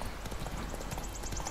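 Horse hooves clip-clop steadily in The Witcher 3, a quick even rhythm of mid-loud hoofbeats over continuous game background sound, with no talk.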